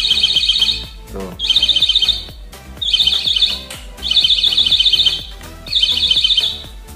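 Homemade proximity sensor alarm built from cheap parts, beeping in five loud bursts of rapid high-pitched tones with short pauses between them as an object is brought near.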